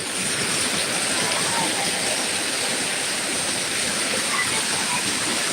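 Heavy rain pours down steadily outside, a dense continuous hiss and roar close and loud throughout, with no break in the downpour.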